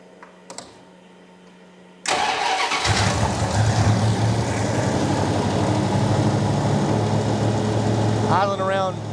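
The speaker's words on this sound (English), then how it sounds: "Idling around 1700 RPM" A turbocharged, fuel-injected V8 police car engine with custom exhaust cranks and catches, then settles into a loud, steady idle around 1700 RPM close by, with a brief whirring at the end.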